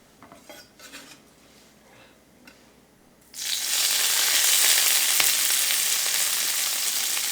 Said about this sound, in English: We're just going to lightly cook the scallions